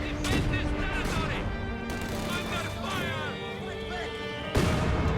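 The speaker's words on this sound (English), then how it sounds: "the machine gun is suppressing his units" Machine gun fire in the Company of Heroes 2 war strategy game, with dense crackling bursts layered over rumbling battle noise and a sharp blast near the end.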